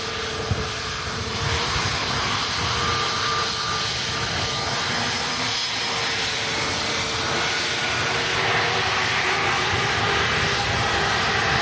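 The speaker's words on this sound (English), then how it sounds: "The Airbus A320 Neo." An Airbus A320neo jet airliner at Manchester Airport in wet weather gives a loud, sustained engine roar and whine that fills the whole stretch with no speech.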